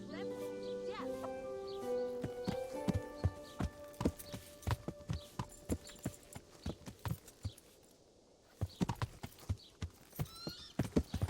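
Horse hooves clip-clop in a steady walking rhythm, close and crisp, with a whinny early on and voices speaking over parts of it, in the video game Kingdom Come: Deliverance.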